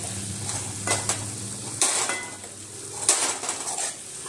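Onion and potato pieces are sautéed in a pan, a low sizzle under several scraping, stirring strokes of a spoon against the metal, with a few sharper clanks standing out.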